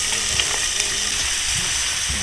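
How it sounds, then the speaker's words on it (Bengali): Onions frying in hot oil for a crisp brown fry at an outdoor picnic cookout, a loud, dense, continuous sizzle with no voices. "তো আমাদের তেল গরম হয়েছে, এখন আমরা পেঁয়াজ দেব বেরেস্তা করার জন্য।"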